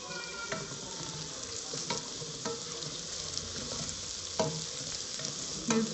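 Green chillies frying in a pan with cauliflower and chicken for gobi gosht, a steady low sizzle with occasional stirring clinks and scrapes, no talk.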